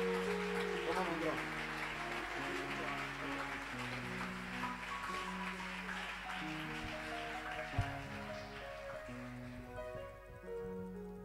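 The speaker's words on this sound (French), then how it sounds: "Alors nous recevons l'homme de Dieu avec les applaudissements." A church congregation claps steadily to welcome the preacher, a dense, sustained patter of many hands under organ or keyboard chords, fairly soft and fading near the end.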